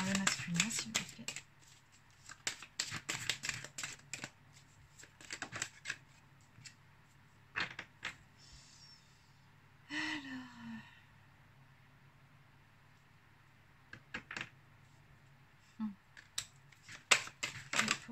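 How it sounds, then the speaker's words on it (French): Tarot cards are shuffled and drawn in irregular bursts of crisp riffling and flicking, close and quiet, with someone speaking French between the card sounds. "on va prendre une ou deux cartes pour le masculin pour commencer"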